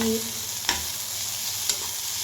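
Egg bhurji ingredients stirred and frying in a pan with chilli powder, a steady close sizzle under two sharp spatula scrapes against the pan.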